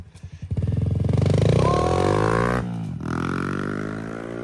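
Dirt bike engine revving hard in the Glamis sand dunes, a loud close throttle blip climbing into a sustained high rev, then a brief dip and a steady fast idle.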